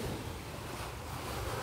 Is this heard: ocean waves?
yes